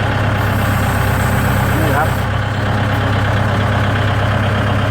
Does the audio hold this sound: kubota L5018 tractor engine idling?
yes